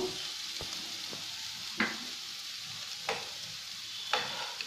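Masala bread toast fries in a pan with vegetables, a steady sizzle underneath and a few distinct spatula scrapes and taps as the mixture is stirred.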